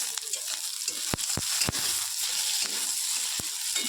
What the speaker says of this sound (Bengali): এবার আমি শুকনো লঙ্কাটা আর পাঁচফোড়নটা ভালো করে ভেজে নেব